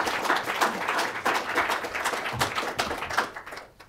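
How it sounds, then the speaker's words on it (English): Audience applause after a talk on China's shale gas and coal, a lively burst of many hands clapping close together that thins out toward the end. "Let's have some applause here."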